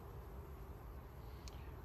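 A buzzing honeybee hive heard as a steady, dense low drone, fairly close and continuous, with no speech and a brief faint high tick near the end.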